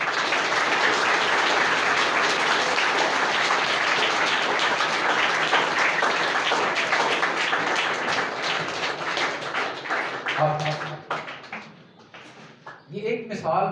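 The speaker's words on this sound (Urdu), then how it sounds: "ذرا سارے لوگ ان کے لیے تالیاں بجائیں" Sustained, dense clapping from a school audience in a literary society gathering, honoring children who gave speeches without notes; steady for about nine seconds, then thinning and fading out near the end.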